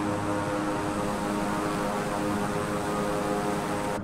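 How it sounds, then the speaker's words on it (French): A TBM 850 single-engine turboprop aircraft in Microsoft Flight Simulator 2020 drones with a steady, loud propeller and engine hum, constant and unbroken throughout with no talk. "Le TBM 850 qui est un avion collector là."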